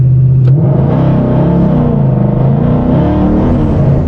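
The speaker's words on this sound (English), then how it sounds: "that's now the car pulling power" A car on drag radials roars loudly and steadily, its engine pitch climbing as it launches hard and accelerates, close and continuous throughout.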